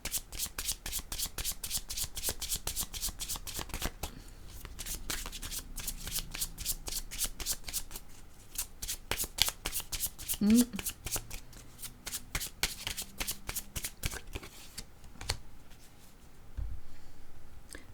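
Deck of playing cards shuffled repeatedly in a rapid riffling flurry, close and crisp, with a voice talking quietly underneath at times.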